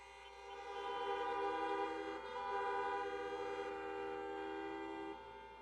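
Car horns blare at an outdoor drive-in political rally in Tucson, Arizona, several long blasts overlapping into a steady droning chord that dips briefly midway and then holds before cutting off.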